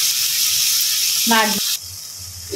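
Tomatoes sizzle in a hot pan for tomato chutney, a loud, steady frying hiss with a brief clattering interruption midway before the sizzle resumes.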